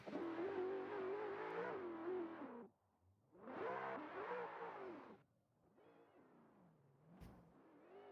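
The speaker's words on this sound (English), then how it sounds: "you hear the roaring engines of both of these Titans going through the" Drift car engines in a virtual racing game roar in sustained revving bursts, two long loud pulls separated by a brief drop, then a quieter, wavering rev.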